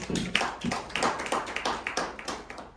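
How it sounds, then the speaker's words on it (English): Audience applause at a business soft launch event, heard as uneven, separate claps in a smaller gathering, moderately loud and close, continuing steadily for a few seconds without talk. "So may we give her a round of applause again"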